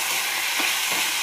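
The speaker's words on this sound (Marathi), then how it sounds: "ह्याच तेलामध्ये आपण शेपू परतून घेऊ" Dill leaves (shepu) sauté in hot oil in a pan, a constant bright sizzle and hiss filling the moment, fairly loud and close, with no talking.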